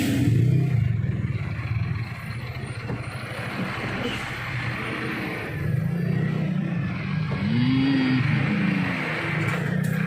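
Heavy road traffic with car and truck engines rumbling and revving close by, mechanical clatter and a rising engine whine in the middle, continuous and fairly loud.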